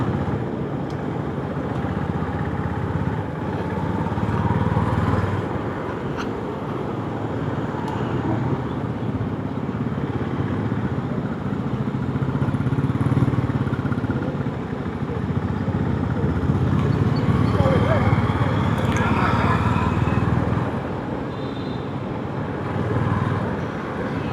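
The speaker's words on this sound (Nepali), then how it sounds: "मेरो बाइक आज स्मुथ भइरहेछ" A motorcycle engine, running smoothly, drones steadily close by, with a constant rumbling hum and wind noise that rises and falls slightly throughout.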